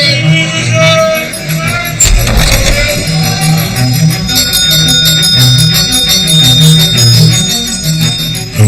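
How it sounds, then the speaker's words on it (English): Division bells ring through the House of Commons before a vote, a loud, continuous electric clangour with shifting tonal layers persisting throughout, busy and dense with no clear pauses. "division bells ring out across the Commons"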